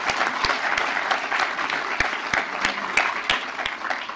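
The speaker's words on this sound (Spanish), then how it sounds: "Solo les pediría un aplauso final para cerrar la mesa" Audience applause closes a panel session at a security and justice seminar, a steady wash of many hands clapping with sharp individual claps standing out, fairly loud and sustained throughout without speech.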